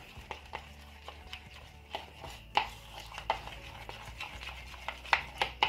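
Purple slime ingredients being stirred together in a bowl, irregular close scraping and tapping strokes at a loose rhythm with a few sharper clicks, without talk.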